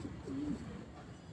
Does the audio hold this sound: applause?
no